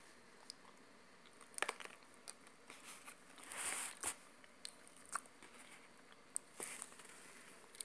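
Someone bites and crunches on sprouted legumes up close, with a few sparse, crisp crunches and one slightly longer chewing burst. The sounds are faint and there is no talk.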